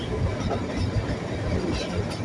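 A train on a winding mountain line near Shimla rumbles and rattles steadily in a close, continuous drone with faint clicking, heard from on board.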